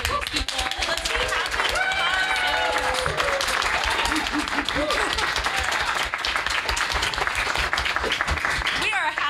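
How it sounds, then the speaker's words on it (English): Sustained applause and clapping from an audience fills the room, dense and steady throughout, with a voice audible over the crowd noise and a cheer rising near the end. "Can we get a huge round of applause and clapping for these people?"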